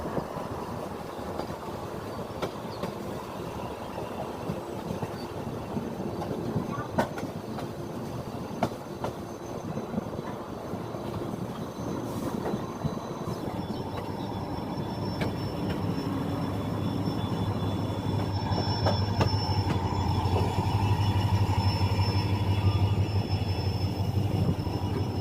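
A passenger train on the Rajkot to Delhi run rolls into Delhi Sarai Rohilla station, heard from on board as a continuous rumble of wheels and carriages with faint squeals, growing heavier toward the end.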